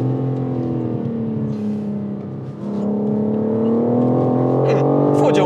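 A BMW M4 Competition in M-Dynamic Mode accelerates on road tyres, its engine droning steadily and rising in pitch as it pulls, with a brief dip mid-way before the revs climb again.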